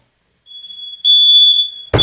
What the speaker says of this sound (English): now my wife has a smoke alarm going off in the kitchen